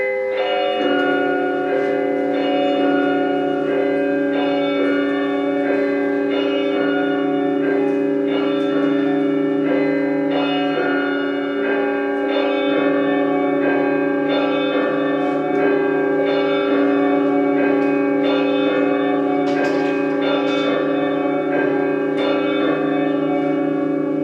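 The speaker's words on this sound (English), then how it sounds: "Ring the alarm bell!" An alarm bell rings loudly and continuously in a stage production of Macbeth, with steady resonant tolling and a rich, sustained overtone that never drops away.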